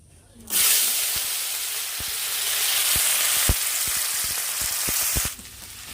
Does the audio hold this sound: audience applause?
no